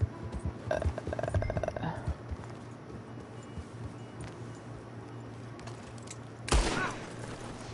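Gunfire in the video game Red Dead Redemption 2, a burst of several quick shots early on and another loud crack near the end, over steady game ambience with hoofbeat-like clatter.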